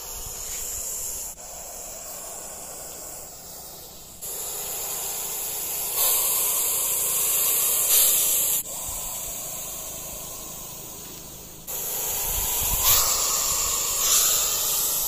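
A snake hisses in long, sharp bursts like a pressure-cooker whistle during a rescue in Balidih, Bokaro, loud and close, with short pauses between the breathy blasts and no voices.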